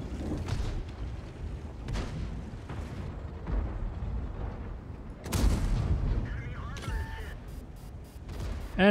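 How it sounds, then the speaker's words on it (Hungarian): Tank cannon fire in World of Tanks, with loud booming shots and heavy rumbling impacts over busy game noise, a sharp blast standing out near the middle, with talk alongside. "Csalásos lövés volt, de beadta."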